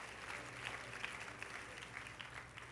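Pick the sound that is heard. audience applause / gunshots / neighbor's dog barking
audience applause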